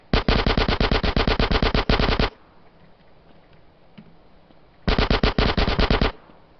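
A minigun in a video game fires two long, loud, rapid bursts separated by a few seconds of quiet background hum.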